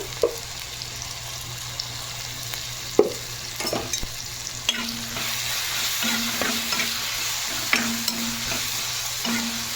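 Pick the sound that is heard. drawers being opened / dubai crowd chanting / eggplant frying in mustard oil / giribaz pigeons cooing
eggplant frying in mustard oil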